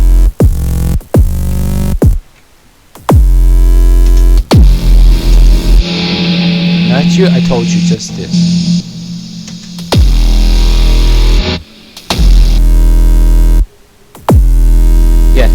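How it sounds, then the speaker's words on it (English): A loud, heavy Massive synthesizer patch for a Doom-style sound: thick, distorted bursts and sustained roaring tones broken by sudden gaps and sharp hits, with a voice briefly speaking between them. "There is this massive, and it by itself it sounds like this."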